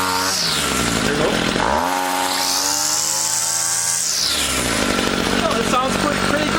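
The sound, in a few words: Ryobi SS26 string trimmer engine running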